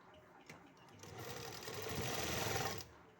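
A sewing machine stitches the lining of a salwar in one steady run of rapid needle chatter that builds and then stops abruptly near the end. No one speaks.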